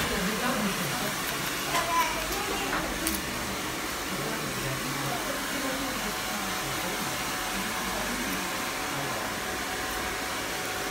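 A hair dryer blows steadily while a layered bob haircut is dried in a salon, a continuous broad whooshing roar, with a voice talking over it.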